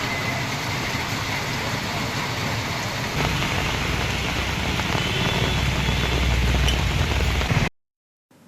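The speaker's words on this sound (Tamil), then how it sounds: "மிதமான சாரல் மழையால் குளிர்ச்சியான சூழல் நிலவியது" Moderate drizzling rain falls steadily in cool weather, a dense even hiss with a low rumble beneath, continuing without pause until it cuts off abruptly near the end.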